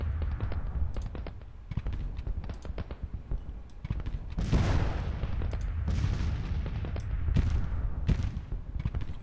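Booming artillery fire in the Civil War strategy game Grand Tactician, with repeated cannon blasts and crackling musketry overlapping in a dense, continuous battle din, swelling louder midway.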